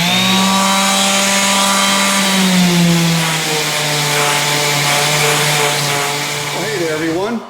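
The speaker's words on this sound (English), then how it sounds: "I'm going to go ahead and start my sanding process." A power sander runs steadily on cabinet doors with 120 grit sandpaper, a loud continuous whirring hum with shifting pitch, close by, over music playing in the background.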